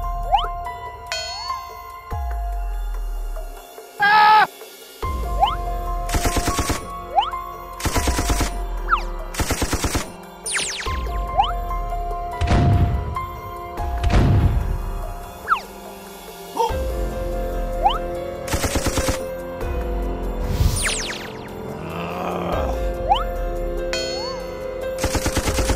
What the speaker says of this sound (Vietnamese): hắn xông vào gara xe gần đó và nổ súng vào tất cả chiếc xe đang đậu bên trong